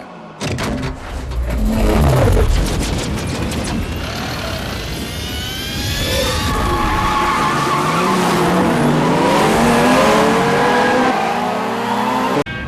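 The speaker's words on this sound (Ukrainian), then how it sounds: "Це такий китайський пікап Great Wall Wingel 5." A Great Wall Wingle 5 Chinese pickup truck drives hard, tires skidding and squealing over a loud, sustained engine roar that rises in pitch as it accelerates, close and without talk.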